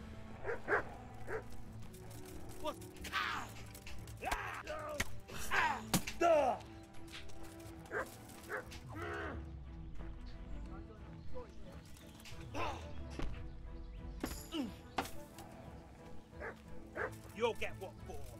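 Dogs in the medieval role-playing game Kingdom Come Deliverance bark and whimper in short, repeated yelps over a constant bed of game noise and a voice talking throughout.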